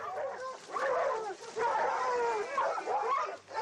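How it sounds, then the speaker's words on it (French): Pack hounds surround a fox during a fox hunt in England, giving a clamour of overlapping yelps, whines and baying cries, close and continuous with brief dips. "Regardez tous ces chiens autour du renard."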